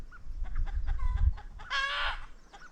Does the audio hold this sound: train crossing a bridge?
no